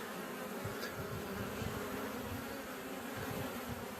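Carniolan honey bees hum steadily at the hive entrance while foraging and bringing in pollen, a dense continuous buzz with close wingbeats passing over the low drone of the colony.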